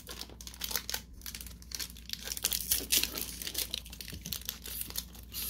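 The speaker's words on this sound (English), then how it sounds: "opening up the next pack" Foil wrapper of a 2019 Topps Chrome jumbo hobby trading card pack being torn open, a busy stream of close crinkling and ripping with sharp bursts, steady throughout and no talking.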